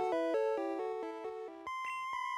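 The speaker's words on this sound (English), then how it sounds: "This is the sound of the radio tower." Bright synthesized tones step through a short repeating melody, then jump to a higher sustained note with quick chirps, the radio tower music from Pokémon Blue.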